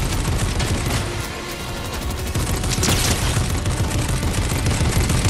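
Bursts of gunfire and explosions from the Fortnite Battle Royale video game crackle in dense, continuous volleys that sound loud and near throughout.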